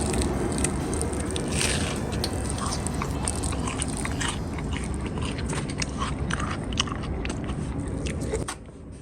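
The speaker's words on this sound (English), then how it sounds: "You have to excuse me there for the crunching and munching" Loud, close crunching and munching on crispy battered fish and chips served with curry sauce, a dense run of bites and chewing that continues steadily before easing off near the end.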